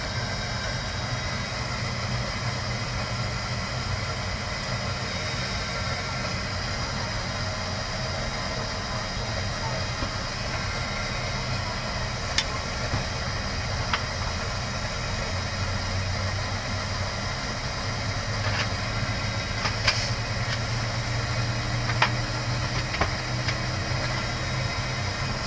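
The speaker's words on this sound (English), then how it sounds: "Start left engine." A CRJ regional jet's left engine winding up and running in a cockpit, a dense continuous roar and whine steady throughout with a few faint clicks on top.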